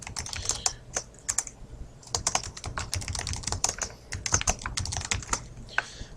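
Fingers type on a computer keyboard in a quick, uneven patter of close, crisp key clicks lasting about six seconds, with no voices.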